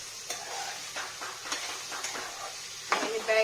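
Tempering sizzles in a pan of eggplant, potato and bean curry during a quick home morning cooking routine, a steady close hiss broken by stirring scrapes and small clinks, with a brief louder burst near the end.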